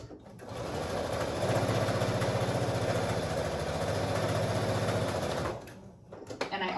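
A sewing machine stitching connected quilt pieces in a long continuous run, its rapid even needle rhythm loud and close before stopping near the end.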